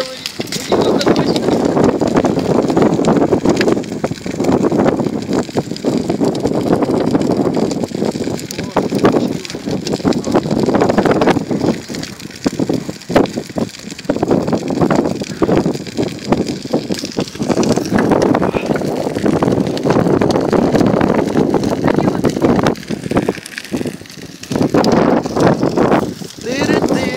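A strong, gusty wind roars continuously outdoors around a Maslenitsa fire of burning tires, loud buffeting mixed with crackling as people talk throughout.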